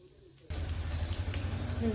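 Bread omelette frying in a pan over a medium gas flame, a quiet start giving way at half a second to a steady, fairly loud sizzle with low crackling that continues to the end.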